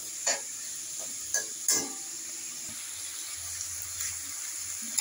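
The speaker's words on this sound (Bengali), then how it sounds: "চিকেন কিমা রেডি হচ্ছে, সেটা ভাজা হোক।" Chicken mince seasoned with turmeric and a little salt fries in a pan with a steady high sizzle, broken by a few sharp scrapes of stirring near the start; no voices.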